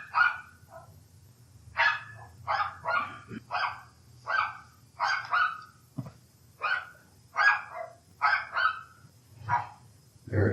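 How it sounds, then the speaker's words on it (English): A dog barks repeatedly in short bursts during a nighttime ghost-hunting session, the barks fairly close and loud in an otherwise quiet room, with irregular pauses between clusters. "Could you make the dog stop barking, please?"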